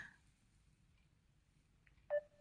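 A telephone being dialed: a couple of brief, quiet keypad tones near the end, the last one a short, louder beep over a faint low hum.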